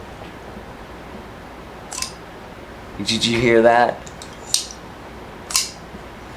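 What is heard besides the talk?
Kansept Goccia titanium knife flicked open, metal sound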